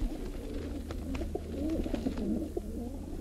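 Pigeons cooing nearby in soft, repeated throaty coos and gentle burbles, with a steady low hum underneath and no voices.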